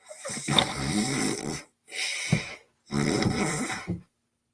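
A pug dog snores three long, loud breaths with a raspy, snorting texture, separated by brief pauses, close up and with no talking.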